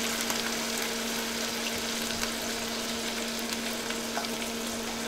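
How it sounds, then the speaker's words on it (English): Sausage gravy with milk being stirred in a pan gives a steady, soft sizzle and bubbling hiss with faint scraping, continuous and fairly quiet, over a low constant hum. "You want to just keep stirring this as it's getting mixed in."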